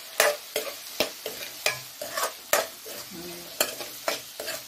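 Aloo poha is stirred in a kadai, a rhythmic run of about a dozen scraping, clacking spatula strokes close up over a faint background sizzle.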